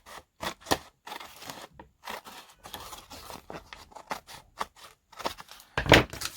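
Excess craft material is snipped away with scissors in a quick run of sharp, close cuts, irregular in rhythm, with a louder crunching cut near the end.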